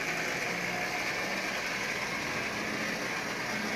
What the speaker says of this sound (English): you have a running 490 with that new double reduction motor in it